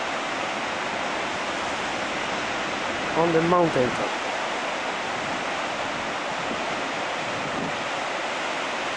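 Marmore Falls thunders with a dense, steady roar of rushing water that fills the scene without a break, and someone speaks briefly over it.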